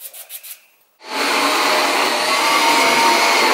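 A household vacuum cleaner starts up after a few brief knocks and runs loud and steady on its own at close range, with a broad, even hiss that continues through to the end.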